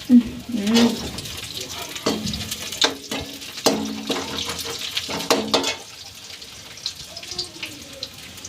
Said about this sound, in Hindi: जब तक प्याज भुजा रहा है